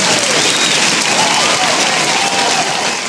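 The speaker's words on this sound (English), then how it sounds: "Freddie, I'm going to need a round of applause after that." A crowd applauds steadily, a dense wash of clapping that holds at an even level throughout.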